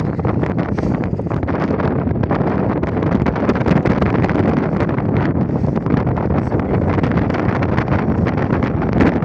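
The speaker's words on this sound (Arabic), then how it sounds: "بصوا الهوا قوي جدا." Strong, steady wind roars and buffets the microphone without letup, a loud continuous rushing that fills the whole clip.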